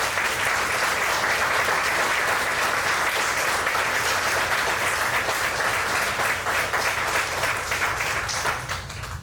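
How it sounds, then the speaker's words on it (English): An audience at a Troop 507 Eagle Scout Court of Honor applauds the scouts' parents, a dense, loud, steady clapping that lasts about nine seconds before beginning to fade. "Let's give the parents a round of applause."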